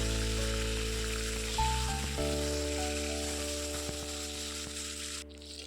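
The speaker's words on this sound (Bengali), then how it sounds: "বেগুনগুলো নুন আর হলুদ দিয়ে ভালো করে নাড়াচাড়া করে ভেজে নেব" Eggplant strips frying in oil with salt and turmeric give a steady, moderate sizzle with occasional stirring clicks, under a faint sustained tonal hum.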